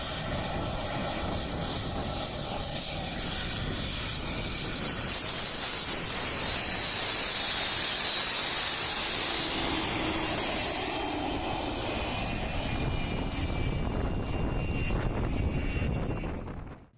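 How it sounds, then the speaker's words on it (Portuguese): Embraer jet turbine engine mounted in a Fiat Uno, a sustained high-pitched whine with roaring rush that swells in the middle and then fades, heard without any talk. "Eles botaram um motor de uma turbina de um jato da Embraer no Uninho."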